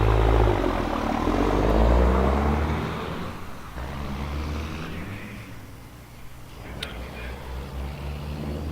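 A 1996 Kenworth diesel semi truck rumbles with a deep, loud engine drone as it rolls to the line at a diesel drag racing event, the sound easing and swelling again.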